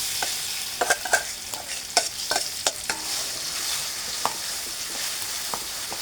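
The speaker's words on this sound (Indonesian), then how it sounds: "Ini kita siap goreng yang bumbunya." Steady hiss of spice paste frying in oil in a pan, broken by sharp clicks and scrapes of a utensil stirring at uneven intervals.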